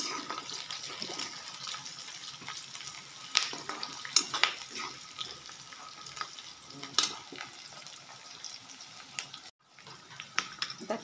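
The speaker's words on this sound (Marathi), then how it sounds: "परतून घ्यायचं 1 मिनिट।" Gram-flour jhunka sautés in a pan with a steady soft sizzle, punctuated by scraping stir strokes and light clinks of a spoon, fairly quiet and close.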